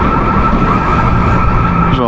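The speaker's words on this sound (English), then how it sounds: "There's an alarm going off in this store." A steady, piercing electronic alarm tone sounds continuously and loudly inside a jewelry store, with a brief warbling shift at the end.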